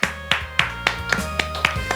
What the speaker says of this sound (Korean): 우리와 함께 계신 우리 하나님께 감사의 박수 드리겠습니다.